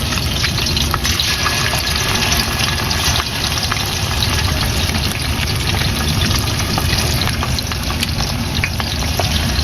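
Masala-coated fish pieces frying in oil at medium heat in a large pot, a loud continuous sizzle and bubbling crackle holding steady throughout.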